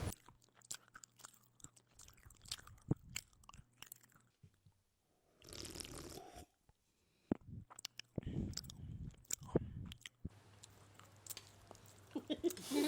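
Crunchy chewing and biting sounds come from someone eating a coconut broth dish with onion, with short bursts of munching between quiet gaps and brief background noise.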